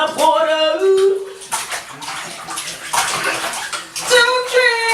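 Water splashes and sloshes in a bathtub for several seconds, with a voice and an adult talking over the watery noise.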